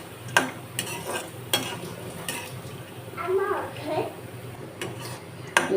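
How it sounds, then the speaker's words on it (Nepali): Soya chunks (Nutrela) frying in a pan, with a quiet sizzle and a few sharp spatula knocks and scrapes spaced through the clip, close up, with a brief bit of faint background talk. "यहाँ चाहिँ न्युट्रेला फ्राई हुँदैछ"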